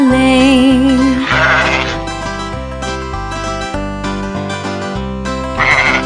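Sheep bleats ring out twice within a bright children's animal-sounds song, the Portuguese version of Baa Baa Black Sheep, set over steady music with bass and backing instruments.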